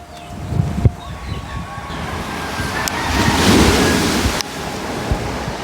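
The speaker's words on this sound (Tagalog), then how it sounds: "Alon." Sea waves surge and wash continuously at a rough shoreline after a storm, a loud swelling roar mixed with gusty wind buffeting the microphone, with a few faint knocks nearby.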